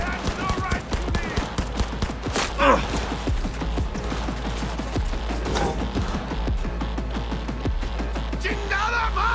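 Rapid submachine gun fire rattles in Cyberpunk 2077, dense repeated shots running through the whole stretch with a few louder bursts, close and continuous amid game noise.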